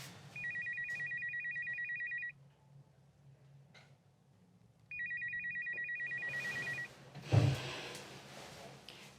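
A telephone rings in two long bursts of rapid electronic trills separated by a quiet pause, followed by a single dull thump, with little else in the background.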